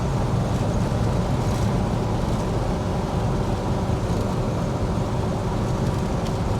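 An El Camino cruises down the road, its engine drone and road noise forming a loud, steady, unbroken rumble throughout, with no voices.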